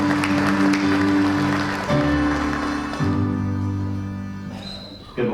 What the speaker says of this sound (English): Please give a big round of applause to welcome Senator Dylan Dukes.